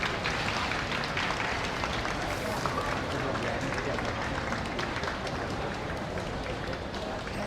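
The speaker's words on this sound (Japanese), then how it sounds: "なんか拍手してある。" A street crowd applauding along Shijo street during the Gion Festival float procession in Kyoto, a steady wash of clapping mixed with crowd noise and voices throughout.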